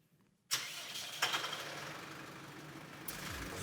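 A CLAAS ARION 400 tractor with a front loader pulls forward, its engine rising sharply into a steady, fairly loud mid-range drone, with a brief mechanical clunk as it moves off and a short low surge near the end.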